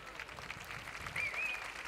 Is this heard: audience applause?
yes